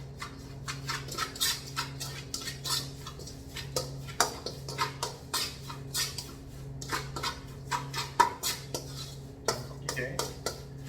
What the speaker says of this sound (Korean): 저어줍니다